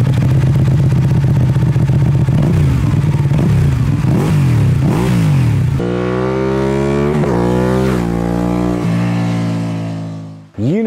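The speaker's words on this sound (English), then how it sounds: "the unbelievable sounding Termagnoni exhaust" A Ducati motorcycle fitted with a Termignoni exhaust revs hard and close up, its engine note climbing and falling through several loud throttle blips before cutting off near the end, with no talking.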